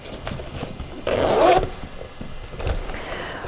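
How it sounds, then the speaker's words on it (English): The zipper on the seat of a Badger Basket twin doll wagon is drawn open in one close, rasping pull of about half a second, with faint handling and rustling of the fabric before and after. "What you do is you unbutton this plastic button here, then you're going to unzip the same side as well"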